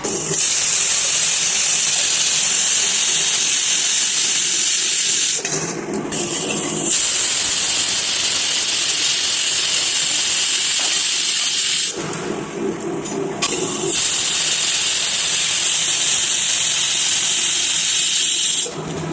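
A pressure cooker cooking stem amaranth greens lets off steam in a loud, continuous, high-pitched whistling hiss. The hiss runs in three long bursts separated by two brief dips.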